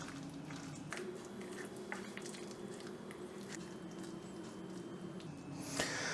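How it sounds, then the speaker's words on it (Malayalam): Prawns being mixed by hand to coat them in batter for chilli prawns, faint wet squelching and soft squishes repeating unevenly, with a brief louder rustle at the end. "ഈ കൊഞ്ച് മൊത്തം നന്നായിട്ട് കോട്ട് ചെയ്യുന്ന രീതിയിൽ മിക്സ് ചെയ്തെടുക്കാം."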